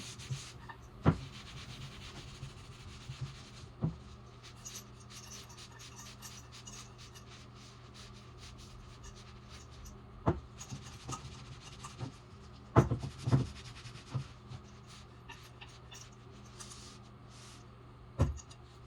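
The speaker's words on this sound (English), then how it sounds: "Now I'm going to wipe back a little bit of the stain." Cloth wiping back wood stain on dining table legs gives a faint, continuous soft rubbing, broken by a few sharp knocks and taps scattered through the stretch.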